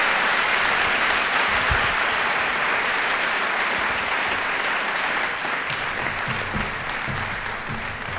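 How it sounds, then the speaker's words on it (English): Sustained audience applause at a Veterans Day ceremony in honor of two veterans, a steady dense wash of many hands clapping that stays loud for the whole stretch, with no one speaking over it. "One more round of applause for Mr."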